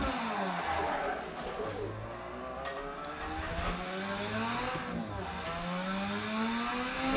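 A Mazda RX-7 engine revs in the Assetto Corsa racing game, a steady rising and falling buzzy whine through gear changes, heard under occasional talk from players.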